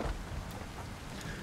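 Steady summer rain in Satisfactory patters evenly and softly around an early-game copper factory, with no voices.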